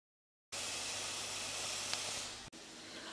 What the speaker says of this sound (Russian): Я выпариваю влагу из грибочков, чтобы их обжарить немного.